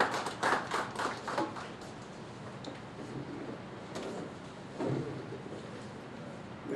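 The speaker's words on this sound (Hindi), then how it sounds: "आप जोरदार तालियों से उनका अभिनंदन" Scattered hand claps open a Hindi poetry gathering (kavi sammelan) as a poet is welcomed, a short burst of sharp claps that quickly thins and fades into quiet room sound.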